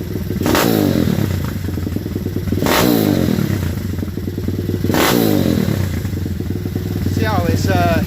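A pit bike, a WPB or Daytona 190 fitted with a Nibbi PWK28 racing carburetor, revs loudly up close in three sharp bursts over a throaty idling exhaust, with clattering mechanical noise throughout.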